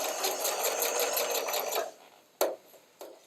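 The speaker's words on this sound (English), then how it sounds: "I've just stitched kind of two lines right next to each other all the way around." A sewing machine stitches a sleeve seam around a curved top, with a close, rapid, rhythmic whir that runs for nearly two seconds and then stops. Two short clicks or clunks follow, and no one speaks.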